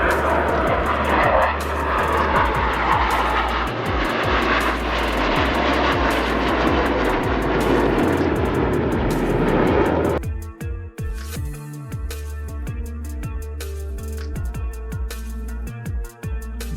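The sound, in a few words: Airbus A319 passing by low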